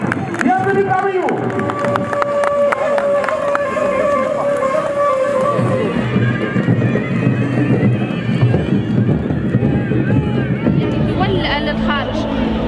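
Magnificent horses parade at a Tunisian festival, with whinnies rising over clip-clopping hooves amid a loud, busy crowd and a steady wash of voices.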